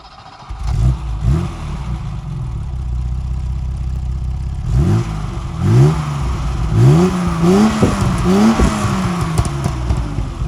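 A BMW E12 sedan pulls away with its engine revving through several gear-like rises, loud and close, with rhythmic surges of acceleration and no talk.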